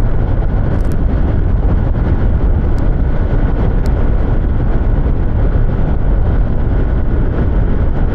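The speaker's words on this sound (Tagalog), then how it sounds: "Grabe, lakas ng hangin." Steady, loud roaring wind buffeting the microphone of a helmeted rider on a Fazzio near Baguio and La Trinidad, Benguet, a constant broadband rush with no letup, like riding fast in open air.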